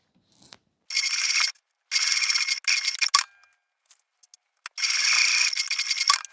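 Sewing machine stitching fabric for a crescent moon bag, with close bursts of rapid mechanical whirring separated by pauses and small clicks, no talk.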